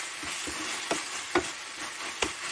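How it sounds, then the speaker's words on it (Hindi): Tomato and onion frying in a pan make a steady sizzle, with a few soft spatula scrapes and stirs scattered through it. "चलिए फ्राई करते हैं देखिए टमाटर प्याज मैंने फ्राई कर दिया है"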